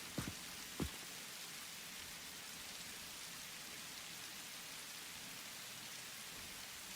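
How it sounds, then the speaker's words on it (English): Steady rain falls in the video game Satisfactory, a soft, even hiss that holds throughout. A couple of brief low thumps come right at the start. "Oh, look at the rain."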